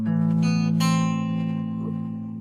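An acoustic guitar lets notes ring out with long sustain while playing a part of a song, with a strum near the start and a slowly fading, close, clean tone and no talking.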